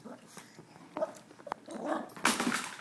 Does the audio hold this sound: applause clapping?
no